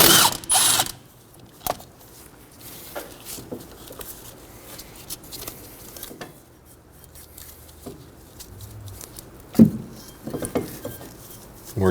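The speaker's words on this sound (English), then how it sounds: "Using a 14mm, I'm going to remove one of our slide pin bolts." A ratchet works a 14mm caliper slide pin bolt loose on a 2003-2006 Subaru Baja rear brake, giving quiet, close bursts of clicking pawl ticks between pauses and occasional metallic clanks.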